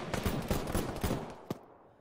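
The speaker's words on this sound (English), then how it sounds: "I'm hearing shots from the northwest." Gunfire in a military tactical shooter game, a rapid string of shots about every quarter second, with one sharper crack standing out near the end before the shooting fades into the background.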